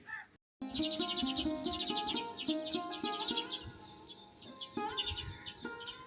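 Many small birds chirp and twitter in a dense, overlapping chorus at a Punjabi mud-house village in the rainy season, close and lively, with bright repeated tweets continuing throughout.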